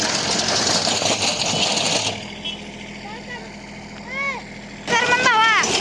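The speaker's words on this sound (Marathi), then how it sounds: "आता बघू शकता तुम्ही भावानं ट्रॅक्टर भिंगवून ते खूप डेंजर झाला आहे भावानं" A farm tractor engine roars loudly for a couple of seconds after the tractor spins around on one tyre, then drops to a lower running rumble with voices talking over it before surging again.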